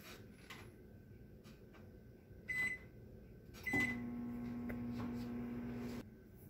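A microwave oven hums steadily at close range after a couple of soft clunks, then falls silent when it stops, in a quiet room.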